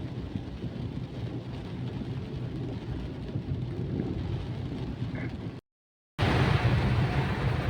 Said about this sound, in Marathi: आज पाऊस पण खूप जोरात आहे